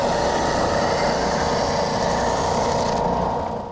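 A Ridgid EB4424 oscillating tabletop belt and spindle sander runs with a steady, loud mechanical drone while rounding a workpiece corner, the hum continuing unbroken and easing slightly near the end.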